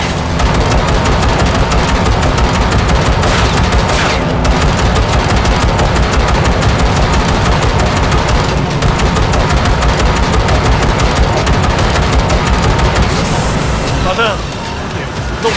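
Rapid gunfire from a firefight in Cyberpunk 2077 rattles in dense automatic bursts almost continuously, loud and close, mixed with game vehicle noise and talking voices.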